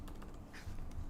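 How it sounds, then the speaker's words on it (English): Quick, light clicks of a computer keyboard come in a short burst of close typing as a domain name and password are entered, quiet and without talk. "type in your domain name, your password"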